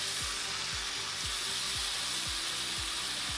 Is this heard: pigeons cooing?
no